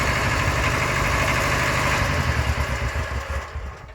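A tractor engine idles close by with a steady, low, throbbing rumble that loosens and fades away over the last second.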